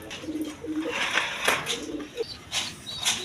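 High-flying Giribaz pigeons, one with a chick, coo in low rolling bursts nearby, mixed with brief wing flutters and sharper noises, with no talking.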